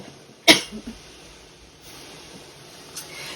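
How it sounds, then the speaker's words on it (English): A single sharp, explosive cough bursts out near the start, followed by quiet breathing and faint room noise. "Now I got a coughing spot."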